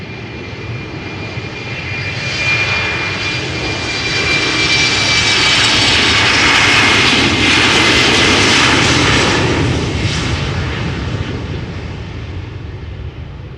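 KLM Embraer jet passing at Schiphol Airport, a loud, steady engine roar that swells toward the middle and slowly fades, with a faint high whine over the rumble.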